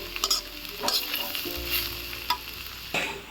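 Jackfruit for a Manikganj-style ejor bhaji fries in a pan, a steady sizzle broken by several scraping stirs of a spatula, close and moderately loud.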